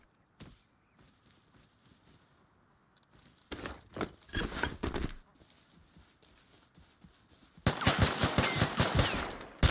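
Shooter video game gunfire comes in bursts: a few sharp shots early, a cluster of rapid fire midway, then a dense loud volley near the end, with quiet gaps between.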